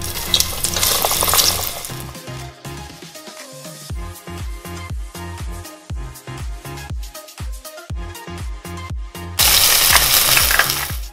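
Pickles dropped into 350°F oil to deep fry give a bright, hissing sizzle at the start and end, with a rhythmic musical backing in between.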